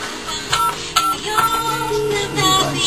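Telephone keypad tones sound in a radio studio as a call is placed to a caller, with several short beeps over a busy, steady background.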